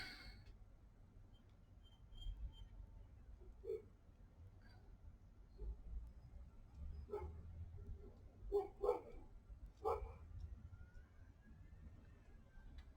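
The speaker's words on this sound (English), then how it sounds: "there goes my girl barking" A dog barks a few times in the distance, short scattered woofs over a low background hum, faint and irregular.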